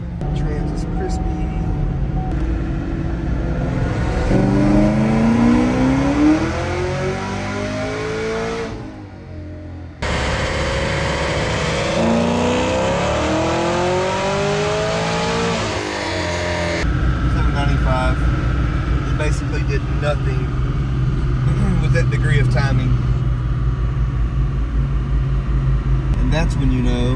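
A Chevrolet Camaro ZL1 engine revs on a dyno during a power pull, its pitch climbing in long sweeping runs, dropping off, then winding up again before settling into a rough, loud idle.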